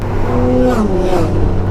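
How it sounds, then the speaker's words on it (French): A 2018 Honda Goldwing 1800 DCT motorcycle on the move, a steady loud engine drone with shifting tonal pitch and a brief rise and fall, heard continuously close up. "Bienvenue à bord de la Honda Goldwing 1800 cm3 2018."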